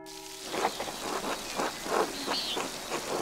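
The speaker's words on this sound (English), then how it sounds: "Oh, tut-tut, it looks like rain." Rain falls steadily in the medieval adventure game Pentiment, a soft even hiss of drops pattering on surfaces, with faint brief tonal chirps over the wash and no talking.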